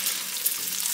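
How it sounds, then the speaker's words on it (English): Chopped onion and garlic sautéing in olive oil in a pan, giving a steady, close hiss of sizzling with no break or talk. "sauteing the onion"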